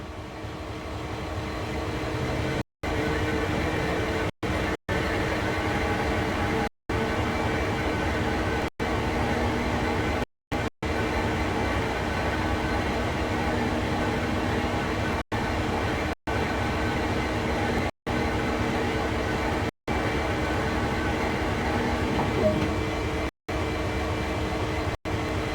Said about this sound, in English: Using the rotation control, turn the table and locomotive to the indicated track.